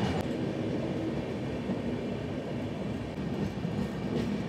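Howrah–Dhanbad Black Diamond Express running with new LHB coaches, a steady loud rumble of the rolling train throughout, without speech.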